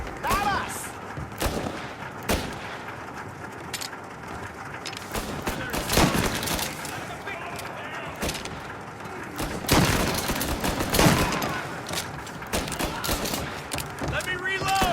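A gunfight in the video game Mafia: Definitive Edition, with repeated loud gunshots and bursts of fire over a busy action backdrop, while characters shout during the shooting.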